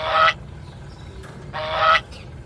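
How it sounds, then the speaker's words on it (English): Two clear, loud goose honks about a second and a half apart stand out over a faint background hiss. "Goose."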